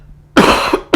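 A single harsh cough bursts out loudly and close, followed by the start of a second one just after.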